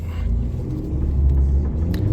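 A Citroen C5 Aircross drives through loose sand off-road, its engine a steady low rumble heard from inside the cabin, rising slightly as it pushes on with faint tyre and chassis noises.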